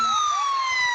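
An ambulance siren wails nearby in a street in Consolacion, Cebu, its loud, steady tone sliding slowly downward with faint low traffic rumble beneath.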